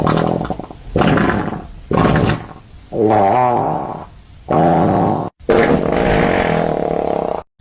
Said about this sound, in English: That's how the farting sound effect sounds like.